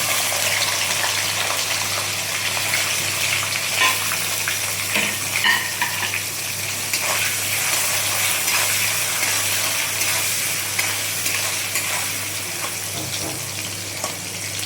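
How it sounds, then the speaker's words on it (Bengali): Coconut fries in a pan for a Bengali vegetarian unripe jackfruit dish, giving a continuous, even sizzling hiss that lasts throughout, close and fairly loud with no talking. "নারকেল আমি ভেজে নিলাম।"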